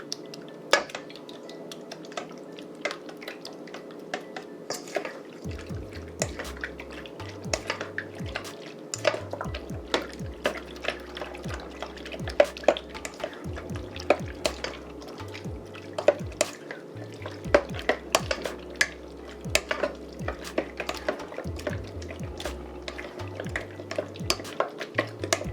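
Eggs are mixed with a utensil in a bowl for General Tso chicken, giving quick, repeated clinks and wet taps close up, with a low musical bed underneath.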